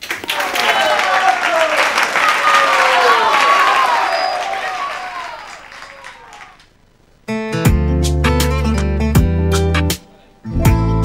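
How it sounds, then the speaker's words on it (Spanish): On a Spanish TV variety show, the studio audience bursts into loud applause mixed with whooping cheers for about seven seconds before it fades and music starts. "vamos a darte un fuerte aplauso de ánimo"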